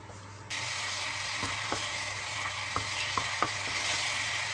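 Filling stir-fried in a pan over low heat gives a steady soft sizzle, with a few clicks of a utensil scraping the pan.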